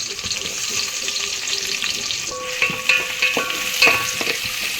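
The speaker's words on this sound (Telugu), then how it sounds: "ఆనియన్స్ అయితే ఫ్రై అయినాయి." Onions sizzle and fry in hot oil for a goat head curry, a steady close crackle with the clack of a spoon stirring the pan at intervals.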